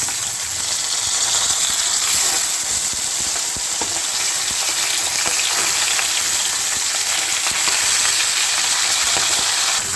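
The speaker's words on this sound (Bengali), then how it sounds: "মাছের মাথাতে এবার গরম তেলে ভেজে নিচ্ছি" A fish head fries in hot oil for a cabbage curry, giving a loud, continuous sizzle with scattered crackles and pops throughout, close up and with no talking.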